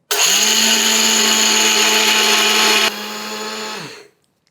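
A mixer grinder whirs loudly and steadily, blending spiced buttermilk masala with sugar. It runs at full speed for about three seconds, then drops to a slightly lower drone before spinning down and stopping.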